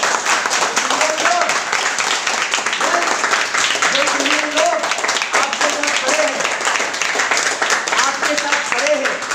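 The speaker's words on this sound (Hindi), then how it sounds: "जोरदार तालियां होना चाहिए।" An audience claps steadily and loudly at a sales training seminar, a dense continuous patter lasting the whole stretch while a voice talks over it.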